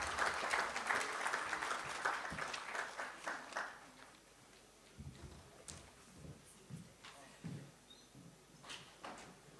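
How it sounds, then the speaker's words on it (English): An audience at a Hindu conference in a London hall applauds loudly for about three seconds before the clapping thins out into scattered claps and thumps, with some voices and bumping sounds afterward. "Please, round of applause for Ms."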